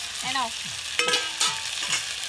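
Whole cumin seeds with a ground cashew and coconut paste frying in hot oil for a pointed gourd dorma filling, a steady close sizzle broken by a few stirring scrapes and clinks.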